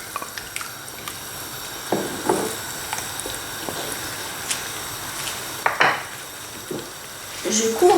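A utensil stirs fish stock into hot water in a tagine, giving soft scraping and light clinks against the pot at an irregular pace, fairly quiet and close.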